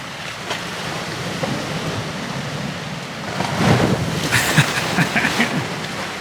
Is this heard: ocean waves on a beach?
yes